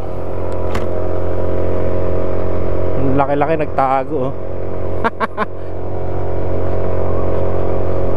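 A vehicle engine revs and drones loudly and continuously while climbing a mountain road, heard close inside the vehicle beneath brief talk.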